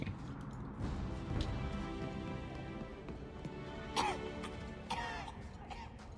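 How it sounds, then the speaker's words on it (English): Coughing and throat clearing close to the microphone during a Dragon Age 2 game session, a few rough bursts scattered over several seconds with faint background game sound. "Some nice coughing in my ear."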